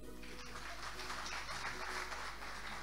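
An audience clapping in a steady, dense wash of applause that neither rises nor fades, heard from within the room over a low constant hum.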